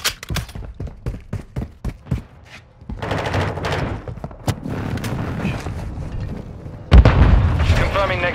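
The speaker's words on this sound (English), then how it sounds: "Friendly airstrike in the AO." Airstrike explosions in Call of Duty Modern Warfare 2 land as a rapid run of sharp booms and blasts, followed by sustained rumbling gunfire and a loud final explosion near the end, with faint game voices mixed in.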